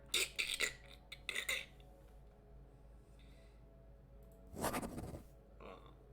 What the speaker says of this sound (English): So as you hear this clicking sound, you suddenly hear